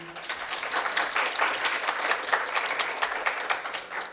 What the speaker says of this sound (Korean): 환영의 박수 부탁드리겠습니다.